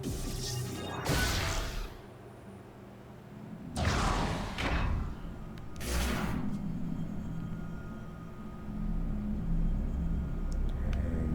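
Three heavy bomb blasts in Metroid Prime 4: Beyond, each a sharp crash with a short whooshing tail. They land at well-spaced intervals over a low, steady game ambience, with no talking.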